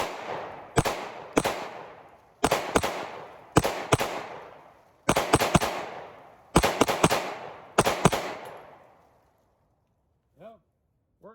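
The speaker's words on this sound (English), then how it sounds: "Last 15 rounds of the Palmetto PSA. I hope it works. Dagger magazine." A Palmetto PSA Dagger pistol fires a 15-round magazine outdoors, the sharp, loud shots coming in quick pairs and bursts, each with a fading echo, before the shooting stops and a voice briefly follows.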